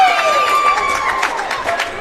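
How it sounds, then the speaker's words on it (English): The Bear Lake crowd cheers at a boys' basketball game as a player comes to the bench. The roar is loud and sustained, with whistles and shouts, and a voice talks over it. "the cheer you just heard, that's Taylor Roberts coming to the bench."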